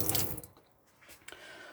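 Water running from a tap into a sink in a 2016 Adria Adora Isonzo caravan, a short close gush that fades, then a brief splash and a quieter flow.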